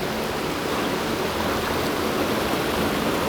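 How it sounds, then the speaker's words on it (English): Roaring water from an endless cascade, a dense, steady broadband rush that stays loud and unbroken throughout, with no other sounds standing out. "compared to the roaring of this endless cycle of water"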